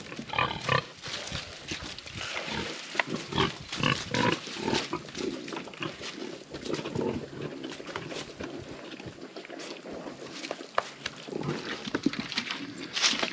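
Pigs grunt and snuffle continuously and close by, making a busy, uneven stream of snorts and squeals with no talking.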